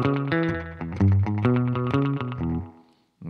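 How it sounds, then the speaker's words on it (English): A guitar-like riff runs through a Great Eastern FX Co. XO Variable Crossover pedal with a short slapback delay echo on the high-frequency band, giving a doubled, slightly distorted tone to each close, loud note before a brief pause. "On the high frequency loop here, we've got a sort of short slappy echo"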